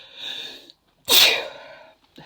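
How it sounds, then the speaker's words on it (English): A woman sneezes once, a loud, sharp burst close to the mic, after a stretch of breathy vocal sound and before a short silence. "have to sneeze again"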